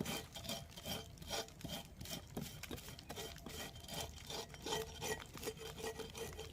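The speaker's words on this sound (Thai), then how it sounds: "นี่ทุกคน เราก็จะมาขูดเนาะ" Steady rasping scrape of a tool on the trunk of a durian tree, stripping bark to treat trunk borers, repeated strokes in a continuous rough rhythm, close and fairly loud with no talk.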